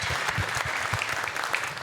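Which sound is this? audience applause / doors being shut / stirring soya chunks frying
audience applause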